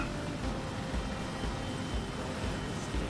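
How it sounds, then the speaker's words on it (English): A simulated jet engine in a flight simulator game drones on as a steady, loud, even roar with a faint high whine above it and no talk. "Don't move the jet engine."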